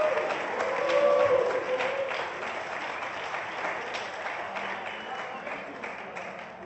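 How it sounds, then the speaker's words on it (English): At the Porsche Mobil 1 Supercup award ceremony in Mexico, an audience applauds with moderate, scattered clapping that swells early and then settles, with some crowd voices mixed in. "also the applause for Project One Fach Racing"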